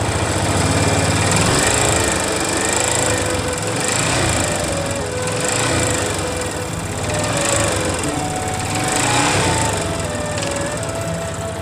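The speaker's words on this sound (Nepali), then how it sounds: "यो बाइकमा के को कारणले गर्दाखेरि यत्रो साउन्ड दिइरहेछ" A Yamaha FZ 250 motorcycle engine idles loudly and continuously with an abnormal rattling, clattering noise, recorded up close in a workshop with a steady, slightly pulsing drone.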